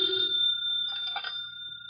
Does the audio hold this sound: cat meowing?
no